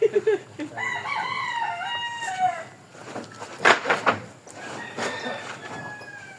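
A rooster crows nearby with a long, wavering call, followed by clucking and other fowl noises in an outdoor farm setting.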